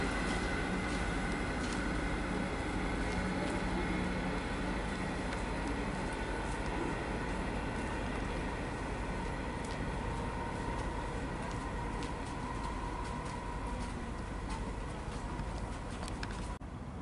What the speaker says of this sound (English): we've got another train arriving